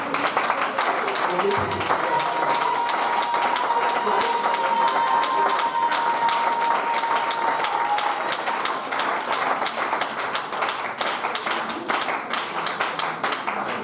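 A church congregation claps and cheers in praise of the Lord, a dense, steady wash of applause and crowd voices filling the whole stretch with no single voice standing out.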